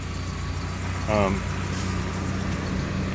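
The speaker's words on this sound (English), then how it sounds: "if you listen, the engine actually slows down" A 2003 Vantage Truckall micro truck engine idles with a steady low rumble, and a brief voice breaks in over it partway through.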